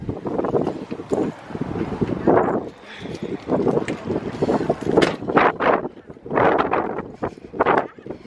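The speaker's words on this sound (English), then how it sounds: "It's really windy out here." Strong wind buffets the microphone in rough gusts while a person talks over it outdoors.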